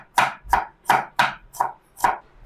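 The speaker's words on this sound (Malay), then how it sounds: "kita potong bawang." An onion is chopped with a knife on a board in six crisp, evenly spaced close chops, a steady rhythm of roughly two to three strokes per second, with no talking.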